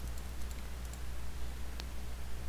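Faint, sparse mouse clicks while tags are set up in an HMI/SCADA program on a computer, light ticks over a low steady electrical hum.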